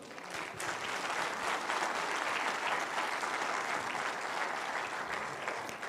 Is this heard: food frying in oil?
no